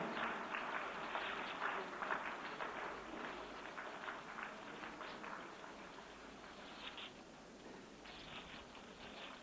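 An audience at a ceremony honouring a coffee table book release breaks into steady applause, a dense patter of many clapping hands that holds throughout and tapers slightly toward the end.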